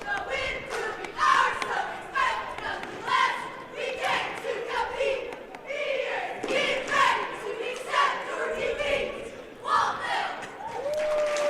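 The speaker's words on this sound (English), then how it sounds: "Waltonville cheerleaders will do their opening cheer" Cheerleaders perform a rhythmic shouted opening cheer in a gym at a high school basketball tournament, with chanted voices, claps and stomps echoing over a crowd.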